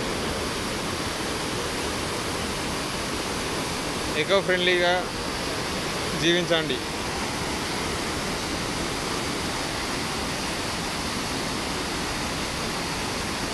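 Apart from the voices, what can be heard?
Chelimela waterfall, strong water flow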